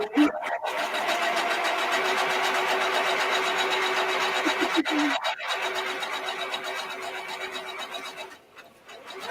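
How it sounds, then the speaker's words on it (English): Sewing machine stitching at a steady, close, mechanical hum, briefly stopping and restarting a couple of times before trailing off near the end. "And it's sewing."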